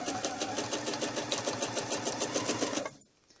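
Sewing machine stitching a curve along a quilting ruler, a close, steady rapid mechanical chatter that runs continuously and then stops abruptly near the end.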